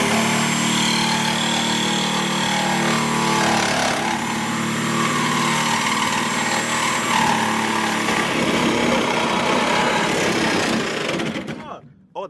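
A power tool cuts through metal on a 2016 Chevy Silverado being lowered, a loud, steady grinding whine that runs unbroken for most of the stretch before cutting off near the end.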